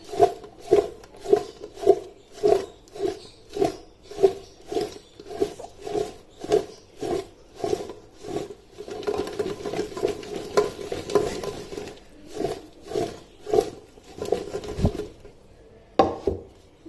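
Mango pickle pieces are tossed with mustard oil and turmeric, producing a rhythmic series of loud, close wet knocks and scrapes, about one per second, before a busier stretch of mixing and a final thump.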